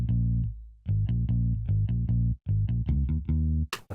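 A bass instrument plays a run of punchy, evenly spaced low notes with a slightly processed, effected tone, heard alone.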